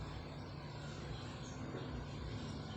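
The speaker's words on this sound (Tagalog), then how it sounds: "Eh palyado talaga yan." An engine with a faulty spark plug runs as a faint, steady droning rumble with an uneven roughness, heard alone without talk.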